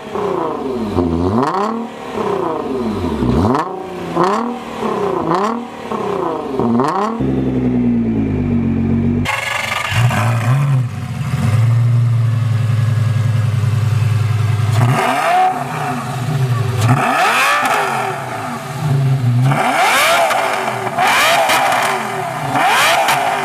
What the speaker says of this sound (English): You've heard the Nissan GTR, you heard the Lamborghini.